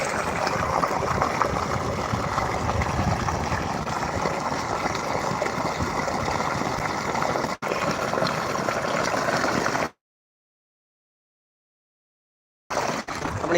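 Water rushes steadily into a winter-crop farm field, a loud, continuous gushing flow with no voices, which breaks off briefly and then stops near the end.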